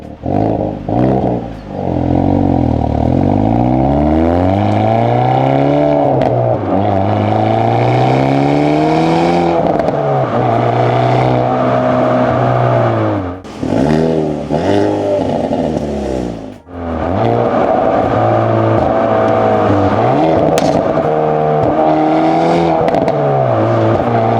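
A 2026 Hyundai Elantra N engine revs repeatedly, its exhaust rising and falling in pitch, loud and close, with crackles and pops between the revs.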